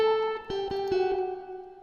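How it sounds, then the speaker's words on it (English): An electric guitar accent lick run through crystallizer with a muffled upper octave and reverb, heard as a few shimmering sustained notes with a glassy octave layer that ring out and fade. "It's crystallizer using the muffled up octave"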